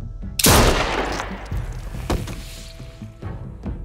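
Gunfire in The Walking Dead video game, season three: one loud, close gunshot blast with a long ringing tail, then a second sharp shot about a second and a half later, and fainter thumps near the end.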